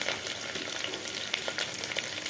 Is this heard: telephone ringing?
no